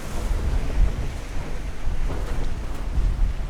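Strong wind roars over a small catamaran at sea, with waves surging and thumping against the hull in a loud, unbroken rumble and no voices.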